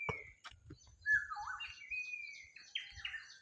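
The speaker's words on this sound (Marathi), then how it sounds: "पक्षी बघ कसे ओरडतात" Several birds call in a forest in bright, sliding whistles and chirps, some rising and falling, fairly close, over faint low rumbling background with no talk.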